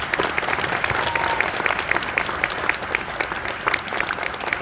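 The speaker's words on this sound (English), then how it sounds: "Please give our panelists a big round of applause." Crowd at a games industry convention panel gives a hearty round of applause, steady close clapping with crisp individual claps standing out throughout.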